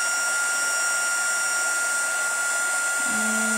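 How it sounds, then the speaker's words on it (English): A heat tool used to melt embossing powder gives off a steady, airy whine and hiss at moderate level, joined near the end by a low hum. "I'm going to come back in with my heat tool."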